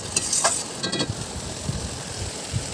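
Spice paste with a little water sizzles softly in a pan for a meat curry, with faint frying crackle and the scrape of stirring strokes.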